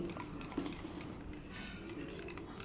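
Spoon or whisk beating a mango, milkmaid and curd mixture in a bowl, with rapid light clinking and scraping against the bowl at a steady close rhythm.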